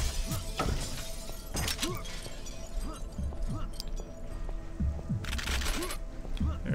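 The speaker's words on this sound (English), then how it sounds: "Hit him so hard that he flew right through the glass." Glass display case shattering in the video game Painkiller as an enemy is knocked through it, with loud crashing bursts of breaking glass over busy game combat noise and low thuds, recurring several times.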